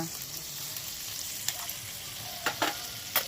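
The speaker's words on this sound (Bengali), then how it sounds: "এবার হালকা করে এটা একটু ভেজে নেব তিন থেকে চার মিনিট" Rice and lentils frying in ghee in a pan for sweet pongal, a steady soft sizzle with a few brief scraping stirs near the end.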